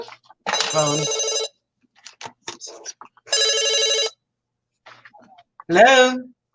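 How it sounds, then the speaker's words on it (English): A telephone ringing indoors in three loud electronic bursts about two seconds apart, with a person talking briefly between the rings. "Oh, phone."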